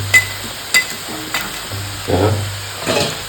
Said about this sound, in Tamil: ചാവലി മീൻ നല്ല പൊരിഞ്ചാറ്റി കെട്ടണം ഒരു അടിപൊളി സൗണ്ട് കേൾക്കണം